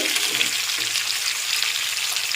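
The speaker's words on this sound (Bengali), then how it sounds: "এখন একটু নেড়ে চেড়ে ভেজে নিচ্ছি ক্যাপসিকাম আর পেঁয়াজটাকে" Capsicum and onion stir-fried in a pan for restaurant-style chilli chicken give a loud, continuous close sizzle with light stirring throughout.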